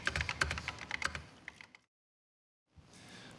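Typing on an early Apple Macintosh keyboard: a quick run of clicky keystrokes close by, irregular taps over about a second and a half, then a short silence before faint room noise returns.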